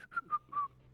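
Someone whistles a short tune of four quick, clear notes, close and alone without any talk.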